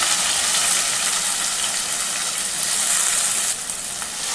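Onions sizzle in a pan with cumin seeds and curry leaves, a loud, continuous close-up hiss of frying oil that holds steady throughout and dips slightly near the end.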